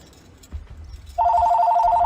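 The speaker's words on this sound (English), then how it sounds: "I've got a phone call" A telephone rings with a steady, loud electronic warble that starts partway through and continues to the end, over quiet game background sounds.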